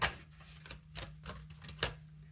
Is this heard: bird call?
no